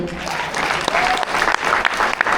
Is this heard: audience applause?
yes